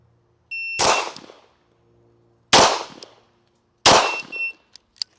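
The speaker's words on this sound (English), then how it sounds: "now I'm gonna fire 3 rounds again, but with this gun, I'm gonna aim a little lower" Three sharp, loud gunshots from a competition pistol ring out alone, evenly spaced about a second and a half apart, each with a short metallic ring and decaying echo.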